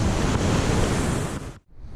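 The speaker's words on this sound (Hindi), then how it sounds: "दरिया आ रहा है जो ऊपर से, बहुत तेज़ पानी है" A fast-flowing mountain river rushing down from above, a loud broad roar of turbulent water heard up close, steady until a brief dropout near the end.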